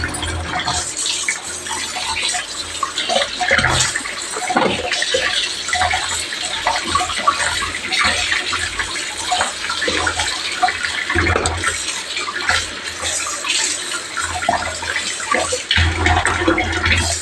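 Water runs steadily from a tap in a kitchen sink while fish is washed and cleaned, with irregular splashes and clatter over a continuous rushing flow throughout and no talk.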